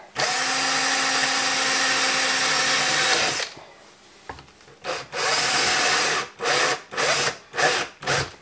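A drill runs loud and steady for several seconds boring into a plastic table, then cuts off; a series of short, rubbing grinding bursts follows with pauses between them.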